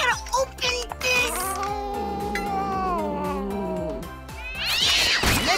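A cat lets out a long, drawn-out meow, close and loud, with shorter mews before and a strained yowl near the end, over a rhythmic background beat.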